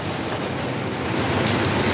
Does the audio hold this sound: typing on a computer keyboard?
no